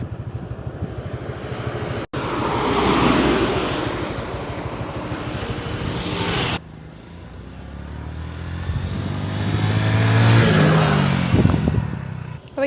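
A motorbike rides along an open road in Vietnam between Da Lat and Mui Ne. Strong wind buffets the microphone over a steady engine and road rush, with a sharp cut near two seconds and a surge toward the end.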